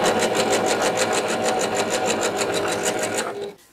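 Electric sewing machine stitching quilt pieces together for a Halloween checkers quilted game board, a close, steady rapid needle rhythm running continuously for over three seconds before stopping abruptly.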